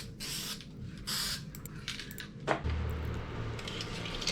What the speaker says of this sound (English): This is my first time ever using the aerosol version.